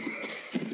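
Horse hooves clop and a brief neigh sound in a Mount & Blade battle, a quick sub-second burst of rhythmic hoof beats alone without talk.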